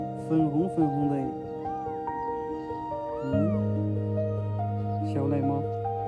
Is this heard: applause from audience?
no